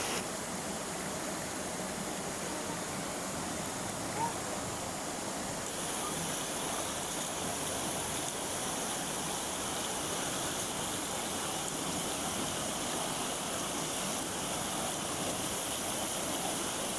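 A steady, unbroken roar of Huai Tuek Chu waterfall in Phu Sing, Sisaket, Thailand, fills the whole stretch, dense and constant with no voices.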